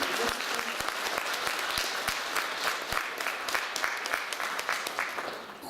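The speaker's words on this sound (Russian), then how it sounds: "Аплодируем." Audience applause at an evening concert of a song and epic competition, sustained crowd clapping with sharp individual claps standing out, continuous throughout.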